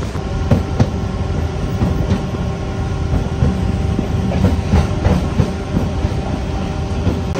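Tirupati to Katpadi MEMU express train running, heard from on board as a loud continuous rumble of wheels on rails with rhythmic clickety-clack beats and a steady mechanical hum.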